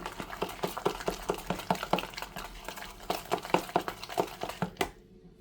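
Overnight oats mixture with sultanas, dried cranberry or dried apple being stirred in a bowl: a steady run of close, soft scraping and spoon clinks, repeated rhythmically for several seconds before stopping.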